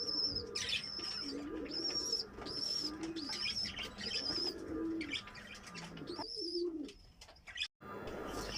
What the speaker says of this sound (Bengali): আজকে দেখাবো কিভাবে কবুতরের বাচ্চাকে হ্যান্ড ফিডিং করানো হয়।